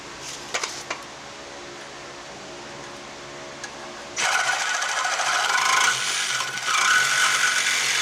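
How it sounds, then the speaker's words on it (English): A Sawzall reciprocating saw cuts on a 2006 GMC Sierra 2500 truck during a lift install, starting abruptly after a quiet stretch with faint clanks, then buzzing loudly and continuously with a rough, rapid stroking rasp. "So we're going to grab the Sawzall and a blade and go to town."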